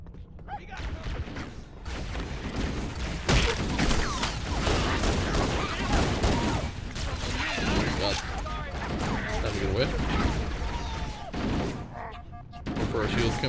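Gunfire in the video game Halo: Combat Evolved, dense bursts of shots and thuds rattling almost continuously at high level, with voices speaking over the firefight.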